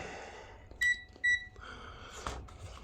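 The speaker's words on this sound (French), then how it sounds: "on avait vu que la diode, elle bipait, hein, qu'elle a un court-circuit" A multimeter in diode test mode beeps twice in short, shrill tones while probing a shorted diode on a TCL 55C31 television board, close and clear over a low steady hiss.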